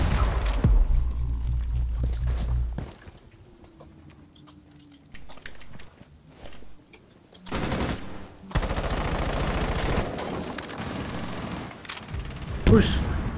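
Rainbow Six match gunfire comes in dense automatic bursts around the middle and latter part, with a loud low thump at the start and people talking over the action.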